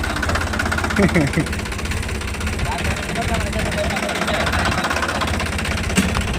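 A tractor engine idles steadily on a farm during a sorghum harvest, a low, continuous mechanical rumble heard while people talk over it.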